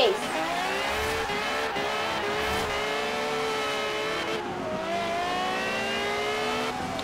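Ferrari F40 and F50 engines scream through high revs in a Forza Horizon 4 online race, pitch climbing and dropping with each gear shift near 9,000 rpm, tire squeal in places, loud and continuous while people talk over it.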